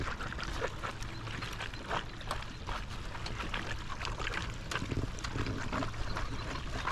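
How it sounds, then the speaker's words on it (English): Water leaks from a pool solar panel, a constant close-up hiss and splatter of escaping water that runs evenly throughout with no talk. "Got a good leak here still."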